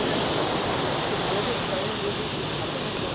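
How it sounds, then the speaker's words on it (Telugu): Milky Bar waterfall at Tamhini Ghat, a three-step waterfall, roars as a steady, dense rush of falling water, loud and continuous with no break. "సో ఇది సీక్రెట్ వాటర్ ఫాల్స్."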